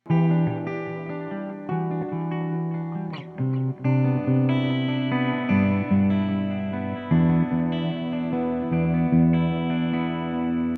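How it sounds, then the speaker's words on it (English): An electric guitar played through a Roland Space Echo tape delay in a guitar shop rig, sounding as sustained, ringing chords and notes with echo repeats and a wash of reverb throughout, close and fairly loud with no talking. "Another thing that's cool with the Space Echo is it has built-in reverb"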